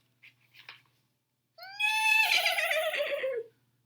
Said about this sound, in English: A horse whinnied.